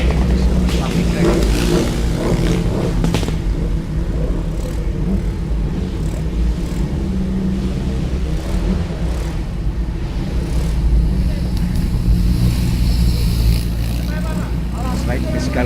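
A Kawasaki motorcycle races up a hill climb course, its engine roaring loud and unbroken throughout, with a commentator's voice running over the top.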